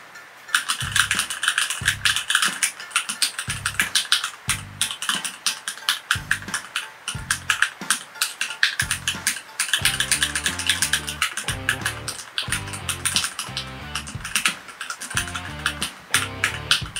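Typing on a Keychron K6/K8 mechanical keyboard fitted with brown switches: a steady run of close, crisp key clacks in an irregular rhythm, growing denser and busier in the second half, with no talking.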